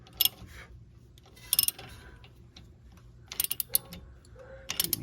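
A ratchet wrench tightening a brake caliper bolt on a Toyota RAV4 front brake job, with short clusters of sharp ratcheting clicks separated by quiet pauses, close and fairly crisp.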